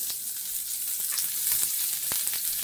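Onions go into hot oil for an egg pepper dry and fry with a bright, steady crackling sizzle, dotted with small pops.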